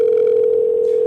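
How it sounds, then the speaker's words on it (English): A telephone dial tone hums as a steady, loud, single-pitched drone while a phone number is being called, alone and unbroken for about a second. "So we are calling her right now"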